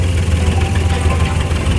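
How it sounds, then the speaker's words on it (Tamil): A manual car's engine hums steadily and loudly up close as the clutch is eased out and it moves off in first gear, a low continuous drone without voices. "வண்டி மூவ் ஆகுது பாருங்கள்."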